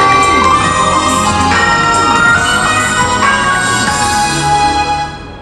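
A Tokyo Metro Fukutoshin Line departure melody rings out clearly at a station, a loud bright chime tune with descending tones that plays for several seconds and fades at the end, with no voices.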